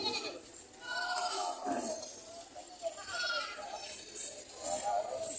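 Goats bleat several times at a moderate distance at a goat market, overlapping a busy background of people talking.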